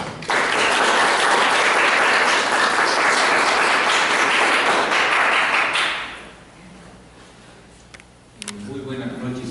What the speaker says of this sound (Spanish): vamos a recibirlo con un fuerte aplauso a nuestro vicerrector de investigación